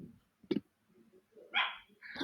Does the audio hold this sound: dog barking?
yes